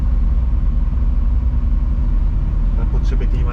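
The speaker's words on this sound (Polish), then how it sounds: "Tu już samochód odpalili," A truck engine idles on a ferry, a steady close low rumble with a pulsing throb, and a few brief higher clinks near the end.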